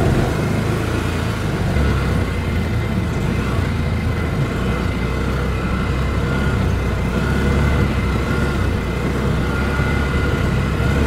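A side-by-side utility vehicle's engine running smoothly and steadily, a continuous close rumble with a steady tone throughout and no talking.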